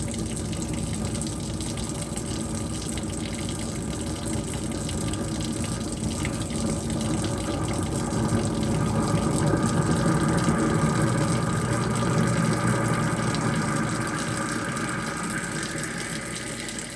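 A kitchen garbage disposal runs with Glisten foaming cleaner inside, giving a continuous loud whirring, watery churn that grows fuller and rougher midway before easing slightly toward the end.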